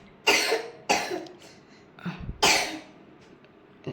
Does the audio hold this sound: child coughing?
yes